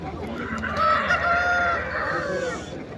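A rooster crowing at a poultry market, one long, loud, close crow with clucking fowl around it against a background of market murmur.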